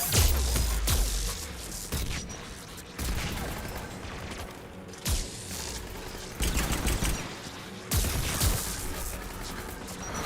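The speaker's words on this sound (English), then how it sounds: "The Geth anti-aircraft guns are up ahead." Heavy Geth anti-aircraft guns in Mass Effect 3 pound out repeated booming volleys roughly every second or two, loud and close over a constant roaring battlefield din.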